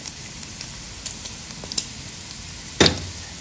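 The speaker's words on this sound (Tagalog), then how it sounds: "igisa ko na rin ang bawang para mas yummy at mabango." Garlic sizzles in olive oil and a little rendered fat in a pan while sotanghon guisado is cooked, giving a steady close crackle with scattered pops and one sharper burst near the end.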